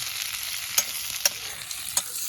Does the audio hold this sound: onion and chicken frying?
yes